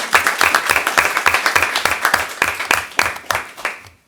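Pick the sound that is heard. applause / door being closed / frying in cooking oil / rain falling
applause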